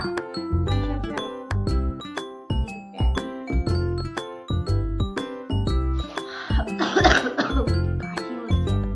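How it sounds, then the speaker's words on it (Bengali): A person coughs repeatedly in short bursts, with ringing, chime-like background tones. "কাশি হচ্ছে"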